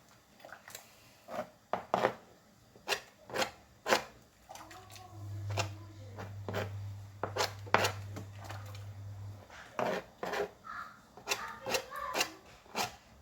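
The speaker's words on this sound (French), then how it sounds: "Je pose ma planche. Et je viens couper des morceaux." Knife chopping kluski dough into pieces on a cutting board: a series of distinct sharp taps at an uneven rhythm, close and clear, with a low hum in the middle section.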